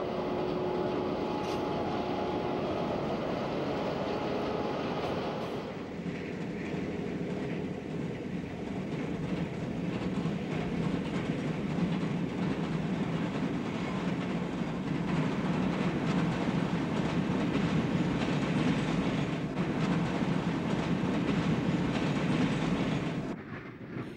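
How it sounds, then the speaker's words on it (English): Passenger train powered by an ABA set of F unit diesel locomotives arriving in Spokane, a steady rolling rumble of engines and wheels on rails, loud and continuous, with the tone shifting as the consist passes. "Train 27 arrives in Spokane, powered by an ABA set of F units."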